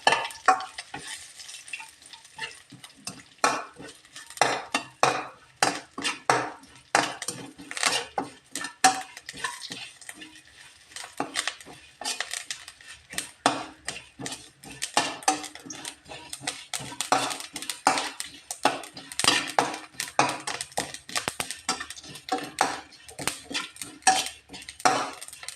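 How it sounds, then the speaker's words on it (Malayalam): Grated coconut and curry leaves roast in a pan for papaya erissery, with a spoon scraping and stirring in rapid irregular strokes, a faint sizzle underneath, close and clear. "തേങ്ങയും എല്ലാം കൂടെ വറുത്തെടുക്കണം"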